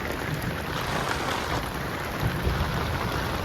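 Heavy rain pours steadily over waterlogged farm fields in a downpour, a dense, even roar of drops with no talk.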